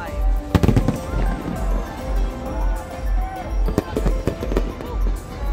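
New Year's Eve fireworks at BGC, Manila, crackle and boom in dense volleys, with a steady low rumble and crowd noise underneath.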